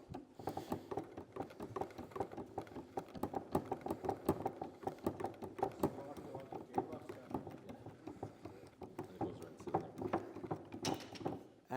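A wheel bearing assembly being pulled down with a puller and cylinder kit, a rapid run of small metallic clicks and ratcheting taps that continue steadily, with a person talking over them.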